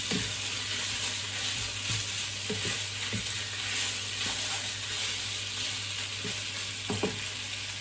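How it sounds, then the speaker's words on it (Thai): Marinated pork belly stir-fried in oil in a hot pan sizzles loudly and steadily throughout, with soft scrapes and knocks from stirring scattered across the frying hiss. "ผัดไปจนกว่าหมูจะสุกเลยนะคะ"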